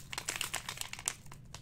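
A packet of yeast crinkles and rustles as it is emptied into a batch of homemade Welch's grape wine, a soft, busy scratching close by with no voices.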